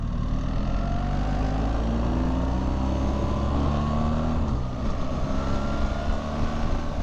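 A 2025 BMW R 1300 GS Adventure motorcycle engine drones loud and steady while riding, its pitch climbing through the gears with a noticeable drop at one automatic shift before pulling again under heavy wind rush.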